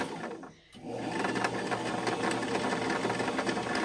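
A foot-pedal sewing machine runs steadily while winding thread onto a bobbin, a close, continuous mechanical whir that stops briefly near the start and then carries on evenly.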